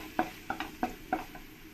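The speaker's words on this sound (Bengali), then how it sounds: "দিয়ে ভালো করে একসঙ্গে আমি কষিয়ে নেব।" Ground cumin, coriander and fennel are stirred in a pan, giving four or five quiet, evenly spaced spatula scrapes and taps over a faint sizzle.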